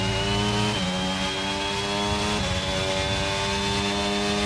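A race car engine revs high and steady in a racing video game at Bahrain, a loud, buzzing whine that dips briefly at gear changes before climbing again, with no talking.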